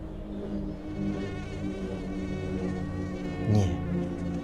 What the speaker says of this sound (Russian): летом комары замучают